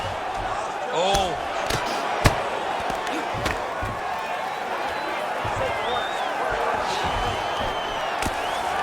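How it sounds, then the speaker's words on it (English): Arena crowd in the UFC 5 game roaring steadily through a Rose Namajunas vs. Jessica Andrade women's bout, a dense sustained swell with occasional sharp thuds and a commentator's voice over the top. "Huge response from the crowd."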